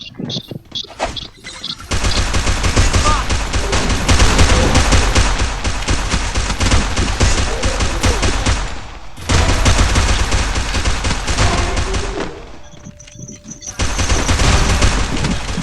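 Loud, sustained automatic gunfire in a video game, dense volleys running almost without pause, one brief lull then another long burst, with faint team chatter at the start.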